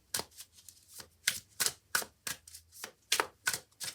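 Tarot cards are shuffled in a close, steady riffle of about ten crisp, papery bursts, each quick and evenly spaced, with no talking over them.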